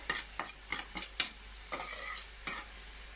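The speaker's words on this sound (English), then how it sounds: "Give it a little bit of a stir." Tomato chili sauce is stirred in a frying pan for Caribbean chickpeas and kale, with a low sizzle beneath a series of quick scraping strokes, several in a row, then a longer sweep.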